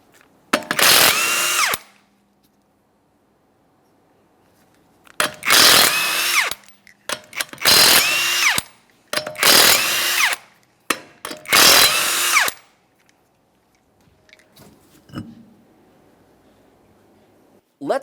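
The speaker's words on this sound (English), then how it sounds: "we're going to remove all 5 of our 21mm lug nuts and then the wheel." Power tool spinning off the 21mm lug nuts on the front wheel of a 2014-2019 Toyota Corolla, heard as five loud separate bursts of whirring and rattling with short silent gaps between them, then a faint knock at the end.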